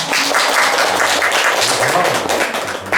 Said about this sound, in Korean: 감사하다는 박수 한번 주세요